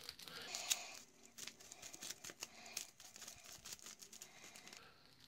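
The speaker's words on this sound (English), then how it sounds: "then we've got to do a good old shuffle" A deck of cards for the Arkham Horror card game being shuffled at a table, a quiet, papery riffling and crinkling with quick soft flicks that carry on for several seconds.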